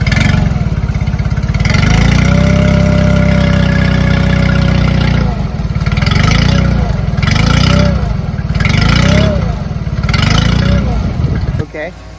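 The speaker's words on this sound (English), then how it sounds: "Now that we've started the motor." A small outboard motor runs after a propeller change, its close, loud engine drone idling and then revving up and down in several bursts before cutting out near the end.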